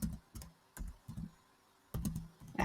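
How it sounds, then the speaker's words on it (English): Keystrokes on a computer keyboard while entering interests into a resume builder, heard as short bursts of several quick clicks separated by brief pauses, fairly quiet and close with no talking. "you can type your interest over here"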